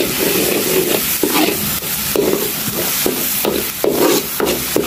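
Tomato masala with red chili is stirred and fried in a pan, giving a steady sizzle broken by repeated scraping strokes of a spoon, close and fairly loud, with no talking.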